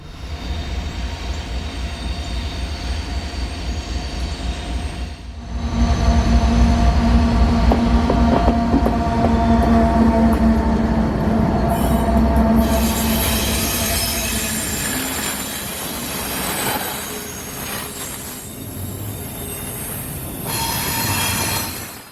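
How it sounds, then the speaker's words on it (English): Norfolk Southern 22A, a northbound intermodal and auto rack freight train, passing close by: a rising rumble as it arrives, then sustained wheel squeal and rolling rail noise with clicking joints that fade and shift as the cars go by. "the train we were about to see here was 22A, northbound intermodal and auto racks out of Norfolk, Virginia, bound for Louisville, Kentucky"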